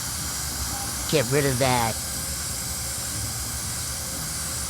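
A paint spray gun turned down low dusts cherry red paint (Mazda 46V) onto a car panel, giving a steady, close hiss throughout while someone speaks briefly over it.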